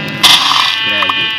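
A sheep in the video game Minecraft gives a single close, loud bleat, followed by a shorter, fainter bleat.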